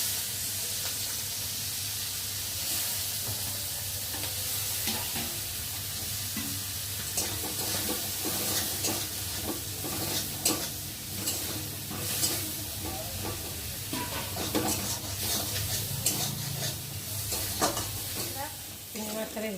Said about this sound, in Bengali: চলো এখন আমি চিংড়ি মাছগুলোকে তেলের মধ্যে দিয়ে দিই